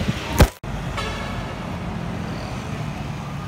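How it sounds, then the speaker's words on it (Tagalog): Road traffic on a congested street, a steady loud rumble of engines close by, opening with a short horn toot and a brief thump before the continuous hum settles. "Oh, solid traffic."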